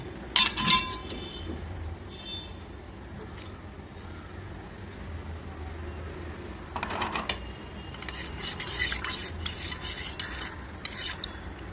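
Crushed mixture being stirred into buttermilk for taak kadhi, with light clinks of a spoon against a glass and soft stirring swishes, close and fairly quiet, no talking.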